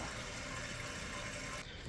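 A toilet tank refills after its old flush valve, handle and flapper were replaced, giving a steady, close hiss of running water that cuts off sharply near the end.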